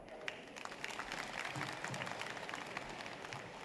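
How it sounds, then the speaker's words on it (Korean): A crowd at the opening ceremony of the 53rd Gangjin County Citizens' Day claps to welcome the vice-chairman onstage, a faint, distant patter of applause spread evenly across the outdoor space. "국민 여러분 큰 박수로 부위원장님을 맞이해 주시기 바랍니다."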